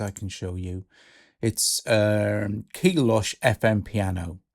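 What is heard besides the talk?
None of the usual background noises is heard.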